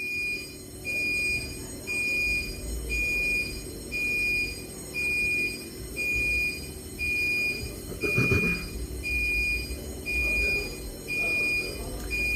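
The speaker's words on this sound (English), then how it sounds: "Fire alarm drill." A fire alarm blares during a drill, sounding as a steady series of evenly spaced, piercing high tones in repeating pulses over a low rumble, with a brief thud partway through.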